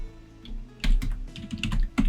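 A password is typed on a computer keyboard, a quick run of close, crisp key clicks in irregular bursts after a short quiet start, with no voices.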